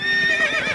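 A horse whinnies in a single drawn-out, wavering neigh, close and fairly loud, with no voices alongside.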